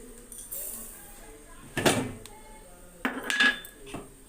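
A pot of wheat-flour semiya payasam is stirred with sugar just added, giving a few clanks and scrapes of a spoon against the metal at close range, separated by quiet stretches.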